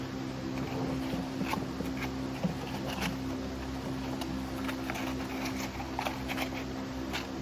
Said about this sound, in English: apologize for the fan noise